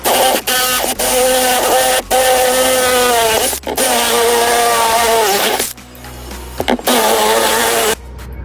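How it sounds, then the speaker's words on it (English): A step drill bores a 20mm hole through a camper van's metal panel for a grommet, giving a loud, sustained whining grind with a few short pauses between bursts, then a quieter final stretch. "the next job's to use the step drill. Just gonna get that down to a 20mm hole"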